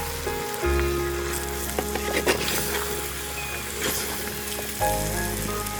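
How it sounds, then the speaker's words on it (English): Brown onion paste sizzles and crackles in a pan of chicken masala for a Saoji chicken dish, a steady close frying hiss broken by scraping stirs and small knocks, with no voices. "I will add brown onion paste into it. Just give a stir to it."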